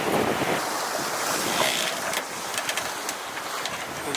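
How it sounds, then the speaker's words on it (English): A sailboat surfs down Pacific Ocean waves during a crossing, with steady roaring wind and rushing water filling the whole stretch, gusts buffeting the microphone and brief sharper splashes near the end. "we surf down this wave, our speed accelerates, the wind speed changes"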